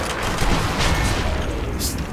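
Dense, continuous rapid gunfire from Sniper Elite V2's Nazi zombie mode, loud and booming with overlapping shots and blasts that fill the whole short burst.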